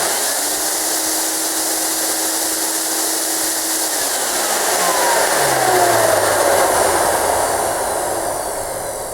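A Monarch 650 twin-motor vacuum cleaner, one motor failed, running loud and steady with a broadband roar and a whine that shifts pitch as the motors settle.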